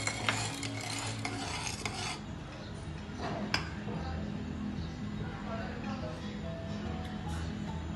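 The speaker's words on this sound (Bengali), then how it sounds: "দুধটার মধ্যে আমি চিনি মিশিয়ে নিচ্ছি।" Sugar being stirred into milk in a pot for egg pudding, with a spoon scraping and clinking steadily and close by, while a person talks quietly in the background.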